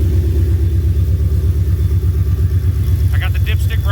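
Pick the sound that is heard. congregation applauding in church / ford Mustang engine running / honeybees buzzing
ford Mustang engine running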